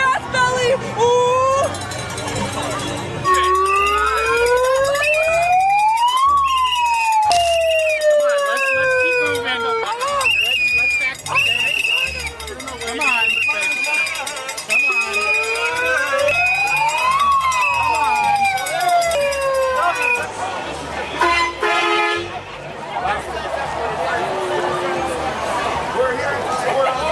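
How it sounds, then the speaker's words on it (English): Police sirens wail and sweep up and down at a crowded street protest, loud and sustained for most of the stretch, with crowd noise, shouting voices and horn blasts mixed underneath. "Sirens, horns, and security stepping in"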